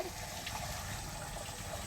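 Water gushes steadily from a motor pump started by a GSM mobile starter, a continuous broadband rushing flow that is fairly faint and unbroken, with no talk.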